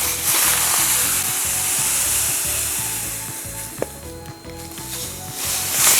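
Spoon stirring sugar into hibiscus sobolo drink to dissolve it, a continuous rhythmic swishing and scraping with a faint clink, close and steady throughout.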